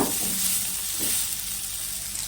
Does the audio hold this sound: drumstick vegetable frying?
yes